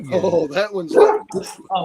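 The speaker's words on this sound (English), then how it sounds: "That's a dog." A dog barks and yips close by in short bursts, mixed in with several people chatting and exclaiming over it.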